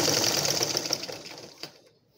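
A sewing machine runs steadily while stitching a cotton blouse, its fast mechanical whir continuous and close before it slows and stops near the end.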